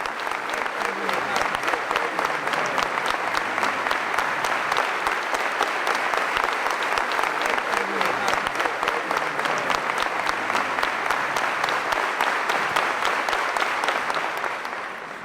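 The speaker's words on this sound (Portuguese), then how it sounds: "Se continuarem a aplaudir, as mãos de vocês não vão aguentar." Sustained audience applause at a 1996 Focolare gathering in Castel Gandolfo, dense, loud and steady from start to finish, tapering slightly at the very end.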